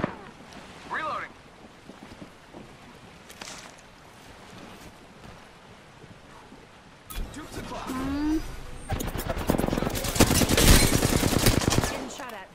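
Gunfire from the video game Apex Legends comes in rapid bursts that grow denser and louder toward the end, mixed with game effects while players talk over it.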